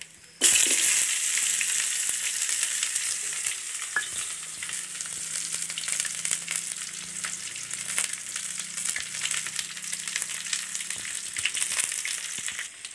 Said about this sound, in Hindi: हम लोग प्याज अच्छे से भून लिया है।